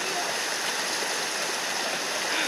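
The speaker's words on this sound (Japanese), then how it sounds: "雨でもこんな増水してるんですよ川が" A rain-swollen river on the Salkantay trek in Peru, a loud, steady, close rushing roar of fast water with no break.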